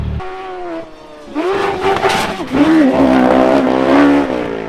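A Mini rallycross car races hard at Lydden Hill, its engine loud and near as it revs up through rising gear pulls, with a brief dip before climbing again into a sustained high-revving howl.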